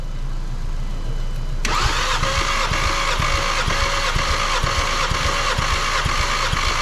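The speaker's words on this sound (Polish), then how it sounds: "gaz do dechy i kręcimy" A VW 1.4 TFSI car engine under diagnosis starts up and then runs steadily with a loud, close, even mechanical drone and rattle that holds without a clear rev climb.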